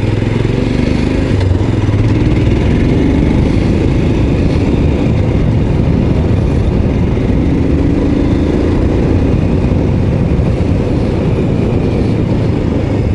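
Royal Enfield Scram 411 single-cylinder motorcycle engine while riding through the Vosges, a steady low rumble blended with wind and road roar, loud and continuous throughout with no talking.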